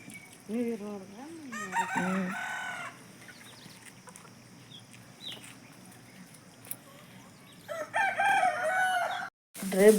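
Chickens cluck and a rooster crows loudly near the start, with more clucking near the end over a quiet village farmyard background.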